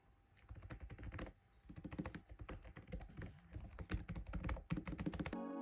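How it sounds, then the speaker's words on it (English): Rapid, irregular keystrokes on a Dell XPS 15 9510 laptop keyboard, a close, crisp clatter of individual key presses with brief pauses between bursts, heard alone with no talk. "Here's what the keyboard sounds like."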